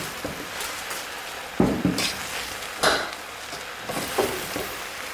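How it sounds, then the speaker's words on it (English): Summer squash biryani being stirred in a pot after Himalayan salt goes in, giving a few clattering scrapes of a utensil against the pot at a steady close distance over faint background noise. "Stir that in."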